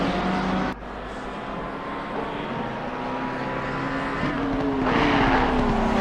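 Race cars including a Porsche scream around the Barcelona circuit during a 24-hour endurance race, engines droning steadily with rising and falling pitch as cars pass and shift, loud and continuous with no talk.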